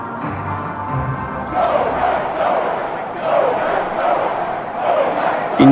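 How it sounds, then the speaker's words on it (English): Hyped Packers crowd roaring and cheering during a Sunday Night video game football match against the Rams, a sustained loud stadium din that swells and stays up throughout, with no talk over it. "you can just hear this Packers crowd hyped up"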